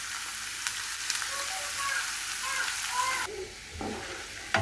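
Spring roll vegetables fry over high heat in a dense, bright sizzle that goes on without pause, then drops abruptly to a softer crackle with a few stirring knocks.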